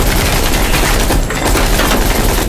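Loud, dense gunfire from a Cold War shooter video game, rapid continuous bursts of shots filling the whole stretch with barely a pause.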